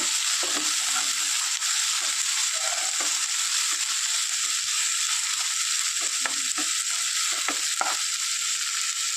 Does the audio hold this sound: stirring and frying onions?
yes